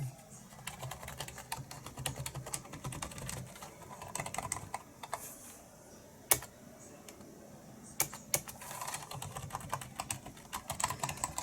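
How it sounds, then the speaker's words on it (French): Typing on a freshly repaired and cleaned PC keyboard, a steady stream of close, crisp key clicks with uneven rhythm and a few sharper, louder strikes, with no speech. "Alors, test final et essai du clavier."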